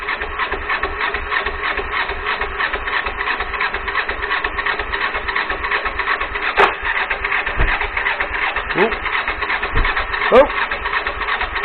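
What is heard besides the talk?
GPZ 500 motorcycle engine cranking and starting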